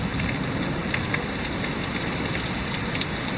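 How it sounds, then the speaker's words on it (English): Hurricane Matthew's wind roars steadily outdoors among swaying trees, a broad, dense rushing noise with rain-like hiss that stays loud and unbroken with no voices. "I'm sure you can hear that roar."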